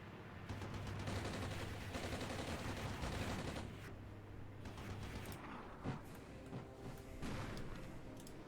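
Sustained gunfire and scattered explosions in the Armored Brigade military strategy game, dense, loud bursts of small-arms and heavier fire with sharper cracks near the middle and end.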